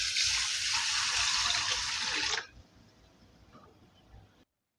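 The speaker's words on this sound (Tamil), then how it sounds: "இப்போ இதை கழுவி நம்ம ஒரு 10 நிமிஷம் நம்ம ஊற வச்சு எடுத்துக்கிறலாம்." Basmati rice washed under running water, a loud gushing stream for a couple of seconds that stops abruptly, followed by faint handling sounds and quiet.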